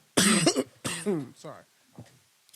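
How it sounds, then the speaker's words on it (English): Several harsh, dry coughs in quick bursts, close up, fading into a couple of weaker ones. "That's why I'm coughing."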